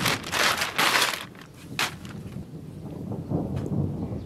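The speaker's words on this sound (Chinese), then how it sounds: "这光打雷不下雨呀" Thunder rumbles before rain arrives, a few loud crackling bursts early on, then fading low rolling noise.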